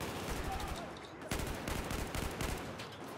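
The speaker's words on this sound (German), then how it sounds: "Dieses Mal habe ich sogar die Schießerei mal nicht angefangen." Rapid bursts of gunfire in the Battlefield 4 single-player campaign, a dense continuous fusillade with overlapping shots filling the whole stretch, loud and close.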